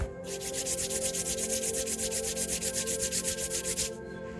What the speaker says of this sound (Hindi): अब अपने हथेलियों को एक दूसरे से रब कीजिए।